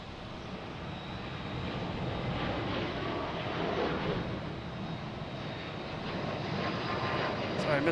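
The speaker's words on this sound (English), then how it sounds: "next taking off is United, heading to Denver. Flight 647." United airliner bound for Denver taking off at Boston Logan International Airport, a steady broad jet-engine roar holding loud and near for the whole stretch with a slight rise toward the end.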